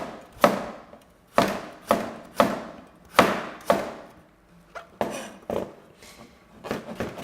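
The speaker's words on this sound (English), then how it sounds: "I do want this carrot to cook nice and quickly, so I'm going to go for nice, fine, sort of diagonal slices." A knife cuts a carrot into fine diagonal slices on a board, making about ten crisp, sharp chops at a steady, unhurried pace, close and clear with no talking.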